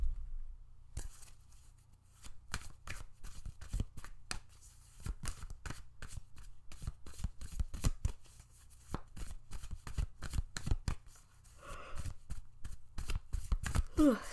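Tarot cards riffled and shuffled in a rapid run of crisp flicks and slaps, up close and loud, going on almost the whole time with no talking.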